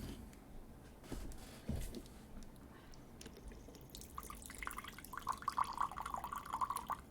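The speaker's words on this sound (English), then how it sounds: "That's just water, folks." Water drips and trickles nearby in short, irregular bursts that grow busier toward the end, over a low background hum with no talk.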